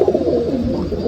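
Pigeons coo inside a pigeon cage: a close, soft, low warbling coo running continuously for about a second, with no talking.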